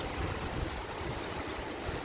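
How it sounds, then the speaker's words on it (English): Flood water of the Canigo River in Juba, Freetown, overflowing after heavy rain and rushing past a bridge. A dense, continuous roar of moving water stays close and steady throughout. "This is the water that flows through the bridge, the Juba bridge."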